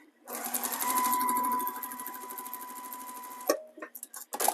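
A sewing machine machine-binding a quilt runs in one steady, close, continuous burst for about three seconds, then stops, followed by a few brief handling clicks and taps.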